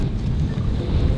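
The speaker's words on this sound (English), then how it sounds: "Oh man, a little windy." Wind blows on a mountain trail at Mt. Le Conte in the Great Smoky Mountains, a loud constant low rumble buffeting the microphone.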